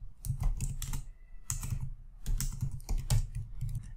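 Keystrokes on a computer keyboard as a command is entered, close and crisp in quick clusters separated by brief pauses.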